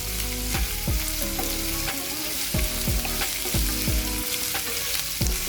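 Curry leaves sizzle and crackle in hot oil with onions for a Hesar kaal curry, a steady loud frying hiss broken by repeated sharp spatters and stirring scrapes throughout.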